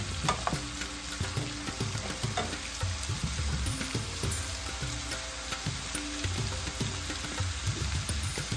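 A spoon scrapes and stirs cauliflower and potato curry, an onion-free flower bataka nu shaak, in a hot pan, with steady sizzling and frying throughout and no talking.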